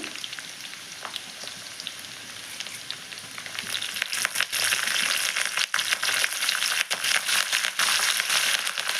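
Curry leaves hit hot oil with browned tempering spices in a pan. A quiet crackle swells suddenly into a loud, dense sizzle with sharp pops that keeps going to the end.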